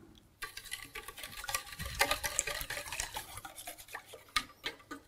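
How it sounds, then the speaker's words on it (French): A spoon stirs egg yolks, sugar, milk and a pinch of ground cinnamon together into a cream for medieval dariole tarts, giving close, irregular scraping and clinking against the bowl, with no talk. "les 2 jaunes d'œufs, le sucre, je rajoute le lait, sans oublier la petite pincée de cannelle en poudre. Je mélange l'ensemble."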